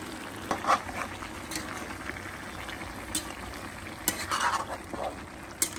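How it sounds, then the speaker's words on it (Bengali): Radish and prawn curry with poppy seed and cashew paste simmers in a pan, giving a steady close bubbling and gentle sizzle, with a few soft stirring scrapes and clinks, alone without talk. "এখন এখানে দেবে পোস্ত আর কাজু বাদাম যেটা বেটে রেখেছিল সেটা।"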